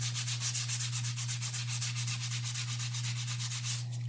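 Dirt is scrubbed off a vintage Bubblecut Barbie doll's legs with an abrasive. The rubbing is fast, even and rhythmic, close up and steady for several seconds over a low constant hum, with no talking.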